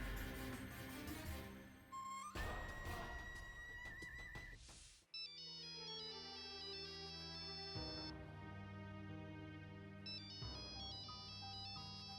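A telephone ringtone for an incoming call plays close and clear as a looping electronic melody of bright, tuned tones that repeats for several seconds with no talking.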